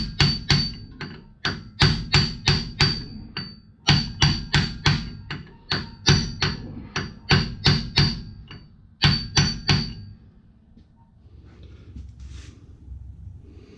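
Steel hammer blows land in quick bursts of three to five on the pinion area of a 2005 Ford F150 while its leaking pinion seal is replaced. The metallic strikes are loud and close, then give way to quieter shop noise.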